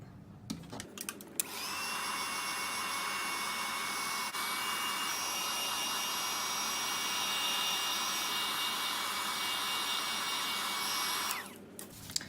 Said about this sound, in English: I'm just going to run the heat tool over just to dry it.